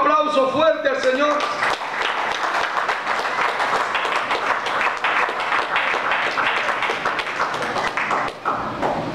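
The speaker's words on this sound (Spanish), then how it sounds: "¿Se atreve a dar un aplauso fuerte al Señor?" Pentecostal church congregation clapping loudly and steadily for the Lord, a dense wash of hands sustained throughout, with a brief sung or spoken voice at the start.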